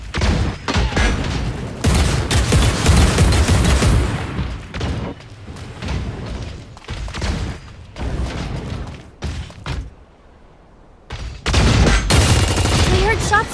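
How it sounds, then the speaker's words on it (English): Bursts of gunfire in the mobile battle royale game Super Mecha Champions, loud and dense volleys with booms filling most of the stretch, a short lull, then renewed firing. "I heard shots fired."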